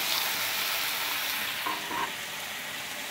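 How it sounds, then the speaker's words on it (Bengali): Vegetables for a vegetarian Malabar spinach dish are stirred and lightly fried in a pan, giving a steady close sizzle with a few soft scraping stirs and no talk. "যখন আমি সবজিগুলোকে নেড়ে নিচ্ছি, একটু হালকা ভেজে নেবো"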